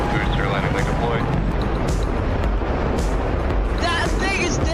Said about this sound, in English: That sonic boom is great for us.